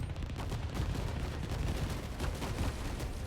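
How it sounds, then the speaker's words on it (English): Missile attacks from the 13 Sentinels video game land in a dense, continuous barrage of loud, overlapping blasts and rumbling impacts that fill the whole stretch without pause. "Lots of missiles. Good stuff."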